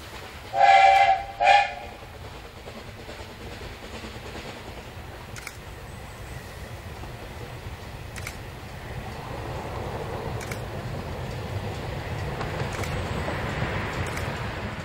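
Steam locomotive on the Pollo narrow-gauge railway hauling a freight wagon loaded with starch potatoes in autumn; two short loud whistle blasts open, then a steady rumble of running wheels and chuffing continues throughout.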